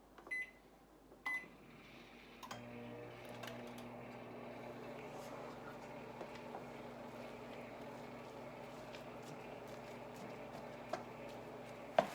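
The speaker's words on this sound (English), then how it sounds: "steam 1 bag of frozen cauliflower rice in the microwave for 6 minutes" A microwave oven hums steadily with a low drone after a couple of clicks, steaming a bag of frozen cauliflower rice, running continuously up close with no voices.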